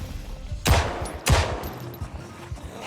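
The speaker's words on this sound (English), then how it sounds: "I'm drawing the attention of zombies everywhere with the gunfire." Gunfire aimed at zombies in Project Zomboid Build 42: two sharp, loud game gunshots about half a second apart, each followed by a short echoing tail, with quiet ambient game sound between them.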